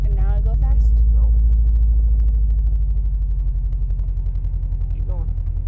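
A manual Subaru WRX pulls away as the clutch is released slowly, its low engine rumble loud and steady up front while a person's voice speaks over it briefly near the start and again toward the end.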